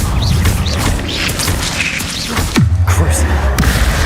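Spell blasts in a Hogwarts Legacy fight boom and crash loudly, with sharp impacts, whooshes and a deep rumbling tail, while a voice shouts spell names over the din.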